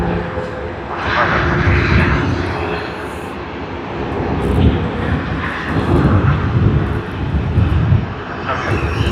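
A fixed-wing airliner at Sydney Airport makes a loud, steady engine roar that swells and holds for several seconds, with a voice speaking faintly beneath it.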